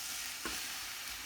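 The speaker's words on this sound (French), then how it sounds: "maintenant, j'ajoute le poisson que je vais aussi faire revenir un peu." A soft, steady sizzle of fish frying in a pan, with a brief stirring scrape midway.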